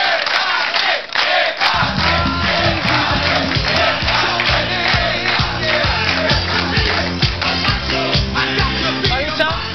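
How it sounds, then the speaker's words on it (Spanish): A loud audience cheers and shouts with scattered clapping at a show, and upbeat music starts after a couple of seconds. "Un aplauso para Maritza, que pase adelante."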